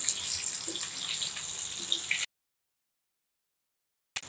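Anchovies frying in hot oil give a steady, close, bright sizzle for about two seconds before it cuts off abruptly, with a brief return at the very end.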